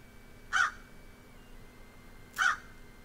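A crow in West of Loathing caws twice, short loud calls spaced about two seconds apart over a quiet steady background hum.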